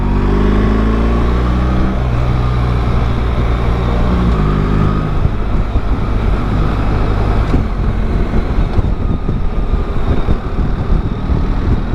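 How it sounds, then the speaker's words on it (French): A BMW R1300GS Adventure motorcycle with an automatic ASA gearbox lugs at very low revs and judders, heard up close while riding: a deep, rough engine drone, steady at first, then breaking into a coarse, uneven rumble that runs the whole time with no talk. "j'ai l'impression que le moteur est fort bas dans les tours, à broute"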